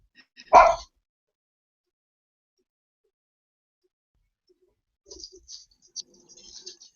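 A house dog gives a single loud bark close by, then the room goes quiet for several seconds before faint yips and scuffling noises return.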